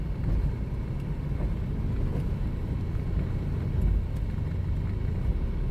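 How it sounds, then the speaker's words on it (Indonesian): A palm oil truck rumbles past below a rural bridge near Luan village in Paser, a steady low engine drone that swells slightly toward the end, with no voices. "Truk kayaknya lewat bawah. Truk sawit."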